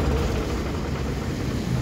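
A new ACE450 45 hp water-cooled tractor engine with an inline pump runs steadily nearby, a dense, even low rumble throughout without voices.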